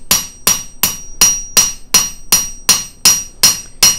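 A ball peen or cross peen hammer strikes metal jewelry in a steady rhythm, eleven sharp ringing blows about every third of a second, close and loud with no voices.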